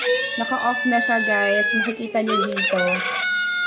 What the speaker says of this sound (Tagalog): tuloy-tuloy pa rin ang pagtilaok ng manok